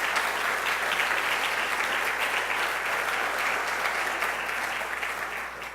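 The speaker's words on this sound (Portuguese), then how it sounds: "eu queria que você aplaudisse e glorificasse o nome do Senhor" A church congregation at an evening service claps together in sustained, dense applause that holds steady and tapers slightly toward the end, with no voices standing out.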